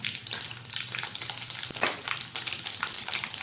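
Red chillies, mustard seeds and asafoetida sizzle in hot oil for a vegetable dish of peas and fenugreek greens, a steady bright crackle with small pops running throughout, close and moderately loud, with no talking.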